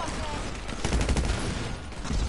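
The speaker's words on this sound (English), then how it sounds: "Who's shooting at me?" Bursts of video game gunfire rattle continuously through a busy multiplayer session, with shots layered over ongoing game noise and players talking.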